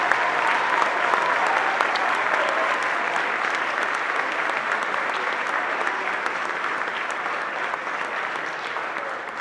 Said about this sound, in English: Let's have one last big round of applause for all our students.